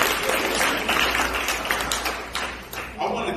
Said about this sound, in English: So clap up again for our entrepreneurs.